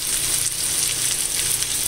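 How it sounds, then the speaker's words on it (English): Steady, crackling sizzle of bacon frying in a hot skillet, continuous and close, with no voices. "I have about 8 slices of bacon frying here in the skillet."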